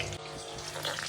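Samosas frying in oil in a home kitchen, a steady, moderately loud sizzle and bubbling hiss that continues without a break, with no talking.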